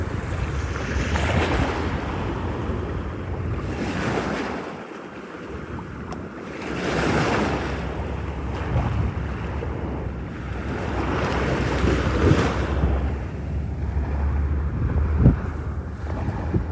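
Ocean waves at Long Beach surge and break in repeated washes, roughly every few seconds, with steady surf hiss and low wind rumble buffeting the microphone throughout.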